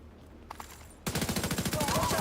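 Video game gunfire: a rapid, loud burst of automatic shots firing in a steady rhythm, following a quiet lead-in with a couple of faint clicks.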